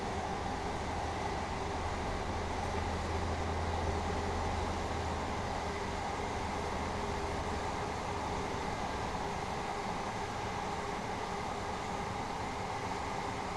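A Class 377 electric train in the game Train Sim World 5 runs through Clapham Junction with a continuous low rumble and steady rattling hiss, without talk.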